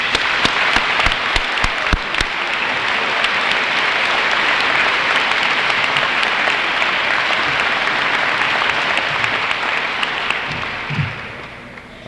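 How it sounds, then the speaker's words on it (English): A school audience at the 1986 Gilman School Founders Day gives a long, loud round of applause, beginning with a few scattered sharp claps, swelling into a dense sustained roar, then thinning toward the end. "I'd like you to give them a round of applause."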